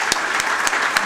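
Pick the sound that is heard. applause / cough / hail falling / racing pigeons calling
applause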